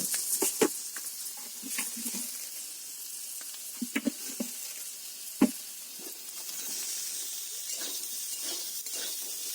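Potatoes frying with spices, chili powder, salt and sugar in a pan, a faint continuous sizzle punctuated by scattered spatula clicks and scrapes, with no one talking.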